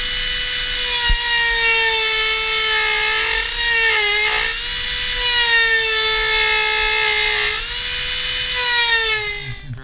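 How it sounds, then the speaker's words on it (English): Dremel rotary tool cutting a vent opening in a carbon fiber fender for an E92 M3, a loud high-pitched whine that bogs and dips several times as it bites into the material, close and continuous with no talking. "So let's try to Dremel this guy now."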